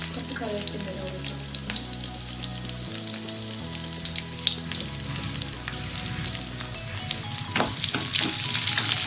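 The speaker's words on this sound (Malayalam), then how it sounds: "വെളിച്ചെണ്ണയിലാണ് കടുക് വറുക്കാൻ പോകുന്നത്" Mustard seeds sizzling and spattering in hot coconut oil in a pan while curry leaves are added for a dried sardine and okra curry, a dense, close crackling fry with sharp pops and stirring clinks, continuous throughout.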